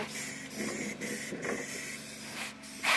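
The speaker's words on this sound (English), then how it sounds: "I got the extra bottle of spray paint here." Steady hissing sprays from an aerosol can, broken into several bursts with short pauses, close and fairly loud.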